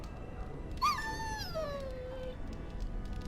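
A faithful warhound in Dragon Age: Origins lets out a single drawn-out whimper. The high whine rises briefly, then slides slowly downward and fades, heard close over quiet ambience.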